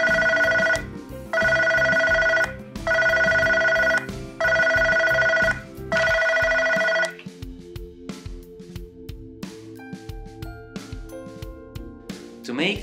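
An incoming-call ringtone on a Planet Computers Cosmo phone sounds in five loud, regular tonal bursts separated by short gaps, then stops, leaving quieter background sounds.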